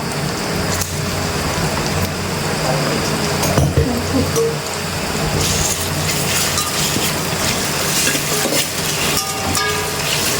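Ginger garlic paste fries with biryani masala in a pan for chicken dum biryani, a loud, steady hiss and sizzle running throughout with occasional scrapes of stirring.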